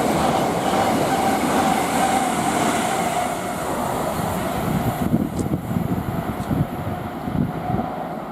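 An electric passenger train rumbles steadily close by at West Ealing station on the Great Western Main Line, with rhythmic clacking of wheels over rail joints growing more pronounced toward the end.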